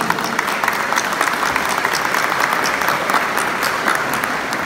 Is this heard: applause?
yes